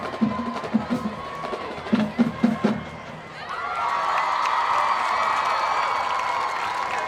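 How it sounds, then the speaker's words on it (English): A home crowd at a Friday night high school football game shouts and cheers near a goal-line play, with sharp bursts of voices first and then a sustained roar of cheering, with the school band nearby. "Crowd cheering."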